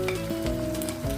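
Fried paneer goes into a sizzling pan for a Chinese-style paneer dish with vegetables, making a brief, close hiss of frying with a steady low hum beneath it and no talking.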